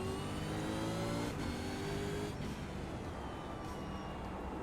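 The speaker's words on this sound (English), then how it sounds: "you can really hear the tires scrub" Race cars in the iRacing sim, engine drone with rising gear-change whines and a dull, continuous tire scrub filling the background at steady loudness.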